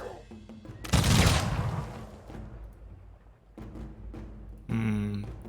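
A burst of massed gunfire in the strategy game Humankind erupts as a loud, dense crackling volley, fades into scattered reports, and is followed by another firing burst overlapped by a voice.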